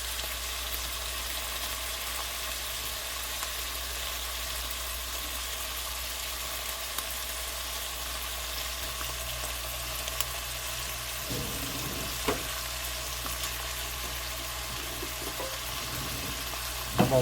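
Bacon frying in a pot gives a steady, even sizzle and crackle at moderate volume, running unbroken for the whole stretch with a few louder pops near the end and no voices.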